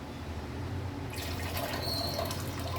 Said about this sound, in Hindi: तीन धो के बाद पानी इसमें से साफ निकलने लग जाता है।